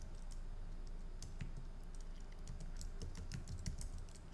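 Typing on a computer keyboard while entering a solar panel cleaning job into booking software: a steady patter of light, uneven key clicks over a low room hum, close and continuous, with no talking.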